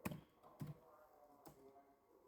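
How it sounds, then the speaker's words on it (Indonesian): The word 'tidak' is typed on a computer keyboard: three quiet, well-separated keystrokes, close but soft, against a low background and with no talking. "Karena saya tidak ingin memulainya lagi, jadi saya ketik tidak"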